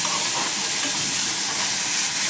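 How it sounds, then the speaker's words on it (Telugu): Onions, ginger and curry leaves fry in hot oil with a dense, even crackling sizzle, loud and close throughout, with no voices. "బాగా వేగుతున్నాయండి ఉల్లిపాయ ముక్కలు అన్నీను"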